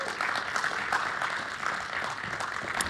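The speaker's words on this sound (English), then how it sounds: "Please give him a round of applause" An audience claps for a keynote speaker at an insurance event, a dense, steady patter of many hands that carries through the whole stretch at even loudness.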